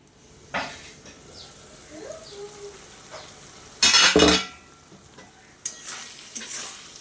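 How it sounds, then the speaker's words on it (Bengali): A spoon stirs a spiced fig curry with masala and a little water in a sizzling pan, making a few scraping bursts with one loud, close scrape in the middle over a soft frying hiss. "যতটুকু জলের দরকার আমি সেই বুঝেই জলটা দিয়েছি মশলাটার সাথে ভালো করে মিশিয়ে আমি নেড়ে চেড়ে"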